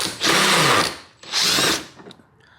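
A power drill fitted with a 10mm socket unbolts a fastener on a Toyota front bumper, two short whirring bursts separated by a brief pause, close and fairly loud, then a faint click.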